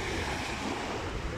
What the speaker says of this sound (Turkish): Bakın deniz dalgalı.